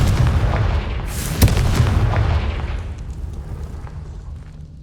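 A Confringo fire spell from the game Hogwarts Legacy bursts with a loud, close boom and sharp crack, then a rumbling roar that slowly fades over several seconds.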